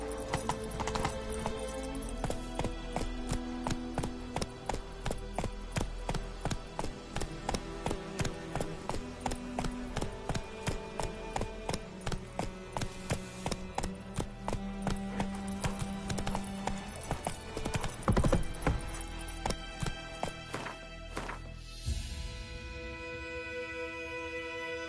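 Roach, a horse in The Witcher 3, gallops with fast, rhythmic hoof clip-clops that carry steadily for most of the stretch, close and loud, easing toward the end with a brief whinny-like sound.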